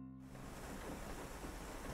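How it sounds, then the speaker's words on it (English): Steady rain hisses in the cooking game PlateUp!, a soft, even wash of noise that starts abruptly and carries on without voices. "Oh, it's raining outside."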